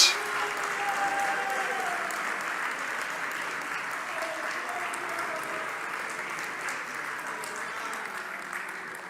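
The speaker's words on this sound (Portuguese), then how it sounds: "Vocês podem aplaudir a Jesus Cristo, adoradores," A church congregation of worshippers bursts into loud, sustained applause that fills a large room, starting sharply and holding steady before slowly tapering off.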